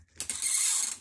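A refrigerator's leveling wheel is turned, giving a short ratcheting, grinding mechanical sound about a second long, close and fairly faint.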